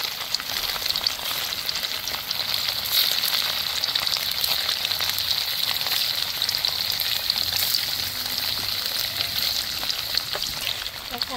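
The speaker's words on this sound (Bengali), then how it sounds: "যে হালকা লালচে কালার আমি করে ভেজে নেব।" Paneer pieces frying in white oil for a Bengali-style paneer curry, a steady, close, continuous crackling sizzle running throughout with faint spits.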